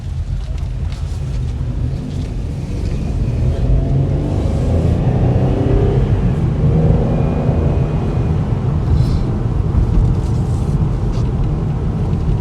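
Steady interior road and engine rumble from a salvage-repairable 2012 Chevy Impala cruising at around 41 mph, a loud continuous low drone with a slight swell in the middle and no talking.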